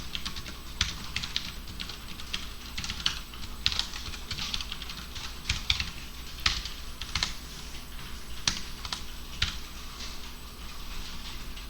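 Java code is typed on a computer keyboard in a steady stream of quick, close key clicks with irregular spacing and a few louder keystrokes.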